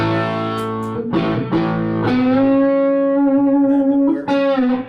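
Heavily distorted electric guitar notes ring out and sustain through a Quilter Tone Block 200 guitar amplifier head, with a few picked attacks and a long gritty held tone.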